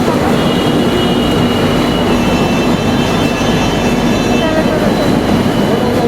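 A Kolkata Metro train rumbles steadily with a loud, continuous low roar and a faint tonal hum, like a carriage pulling into a station.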